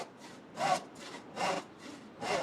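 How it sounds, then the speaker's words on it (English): A modern one-person handsaw cutting wood, pitched down to sound heavier, with a rhythmic back-and-forth rasp of about six strokes, the push strokes louder and brighter, close and alone. "this modern one-person handsaw, which I pitched down a bit to make it sound heavier"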